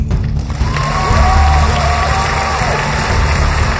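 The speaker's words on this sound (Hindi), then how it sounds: "आपकी भरपूर तालियों में" At a Pakistani military event finale, an audience applauds the aeronautical engineer Yang Li as he is welcomed to the stage. The clapping is loud and steady, with cheering and a tonal sound running through it.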